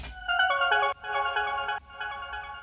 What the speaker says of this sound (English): the last synth that I've got comes in right at the end, and I've called it a sparkle synth